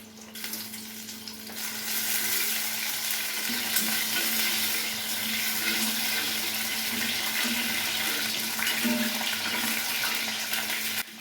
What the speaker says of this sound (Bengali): কড়াইতে তেল গরম করে নিয়ে জিরা তেজপাতা শুকনো লঙ্কা এলাচ ও দারচিনি ফোড়ন দিয়ে নিতে হবে